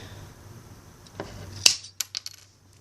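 Garden-shed hedge cutters snap through a popsicle stick in one sharp, close crack, followed by a few small clattering taps of wood pieces falling, with no speech.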